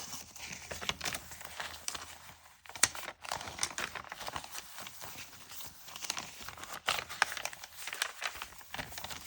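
Rice paper and collage papers rustle and crinkle as the pages of an art journal are handled and flipped, with soft, irregular crinkling and tapping close by.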